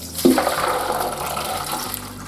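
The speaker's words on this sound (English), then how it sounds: "I will soak beans overnight, and now I will drain." Soaked beans are drained, and water pours and splashes steadily into a sink for a couple of seconds, close to the microphone, with no talk.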